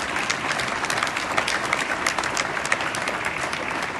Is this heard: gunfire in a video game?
no